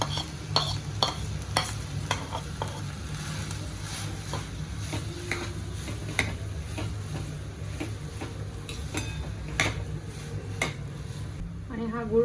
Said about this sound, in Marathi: आता आपण गॅसवर कढई ठेवली आहे आणि आता आपण ही डाळ ह्याच्यात टाकणार आहोत